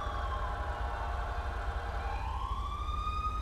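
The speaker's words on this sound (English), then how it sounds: "They just cut their sirens and it sounded like it was out front." Police car sirens wailing in a rising and falling tone over a steady low rumble of idling engine or traffic, fairly distant and continuous with no talking.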